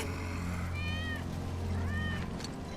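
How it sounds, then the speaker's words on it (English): Wedge's cat in Final Fantasy 7 Remake lets out two distinct meows about a second apart, close and clear over a low ambient drone of the game scene. "That's Wedge's cat."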